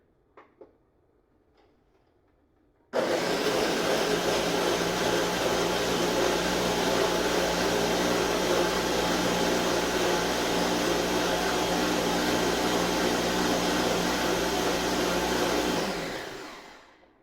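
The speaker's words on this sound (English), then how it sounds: "I am going to blend this for 15-20 seconds and see how that goes." A blender blending oat milk roars on abruptly after a few seconds of quiet, running loud and steady for about thirteen seconds before winding down to a stop.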